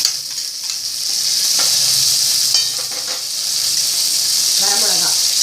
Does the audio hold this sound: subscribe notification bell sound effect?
no